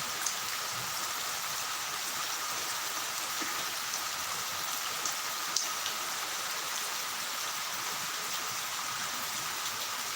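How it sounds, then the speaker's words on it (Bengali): Heavy rain pours down in a dense, even hiss of countless drops, steady and enveloping throughout, with only a few sharper splashes standing out. "প্রচুর বৃষ্টি হচ্ছে এখানে"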